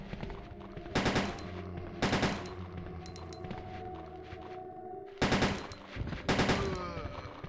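Gunfire from Ada in Resident Evil 2, with loud bursts of rapid shots at about one-second intervals, then a pause and two more heavy bursts over a steady background of game music and ambience.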